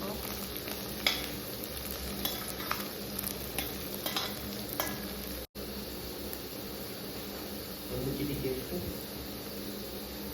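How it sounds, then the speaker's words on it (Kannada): Cabbage palya frying in a pan with turmeric and masala powders, giving a continuous close sizzle with repeated spatula scraping and stirring strokes, plus a brief cut midway. "ಅದನ್ನು ಹಾಕಿ ಫ್ರೈ ಮಾಡಬೇಕು ಸ್ವಲ್ಪ ಹೊತ್ತು"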